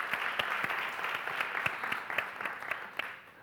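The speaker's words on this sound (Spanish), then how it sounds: "Un aplauso para ella." Applause from a congress audience at an international conference on good teaching practice with technology, a steady patter of many hands with sharper individual claps standing out, moderately close and continuing for several seconds.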